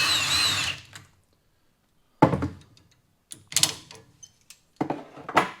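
A power tool spins off the strut top nut on a Holden Commodore while the coil spring is held under preload, in several short, sharp whirring bursts separated by quiet pauses and a few clunks.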